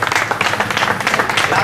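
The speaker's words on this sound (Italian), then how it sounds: "Qua gli applausi degli amici" Friends burst into dense, loud applause at the awards for the Città di Tiriolo slalom race, a brief continuous clatter of many hands close by with voices mixed in.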